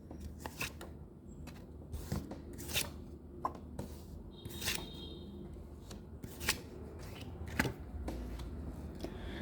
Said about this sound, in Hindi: एंजल्स प्लीज़ मुझे कार्ड दीजिए।